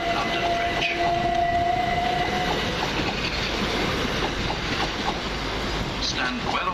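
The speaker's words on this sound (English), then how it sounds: "377514 departs with the SEC service from Brighton to Bedford" Class 377 electric multiple unit 377514 departing a station on a Southern service from Brighton to Bedford, with rumbling wheels, clickety-clack over rail joints and a brief squeal, heard close on the platform.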